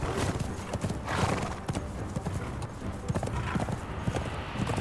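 Horse hooves gallop in a rapid, steady clip-clop rhythm in Conan Exiles, loud and close, with an occasional neigh over continuous ambient game noise.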